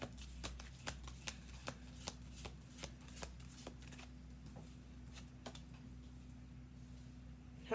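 Tarot cards shuffled by hand in a series of crisp, rapid riffling flutters and soft slaps, close and fairly quiet over a steady low room hum, with no talking.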